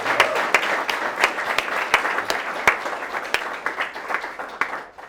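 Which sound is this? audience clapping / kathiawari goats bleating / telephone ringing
audience clapping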